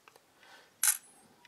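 A single short, crisp shutter click from a Lumia 1520 phone camera, faint and close, surrounded by soft handling noises.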